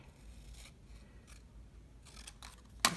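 Scissors snipping through paper while cutting out geometric shapes, a few quiet separate cuts and rustles, ending with a sharper snip near the close.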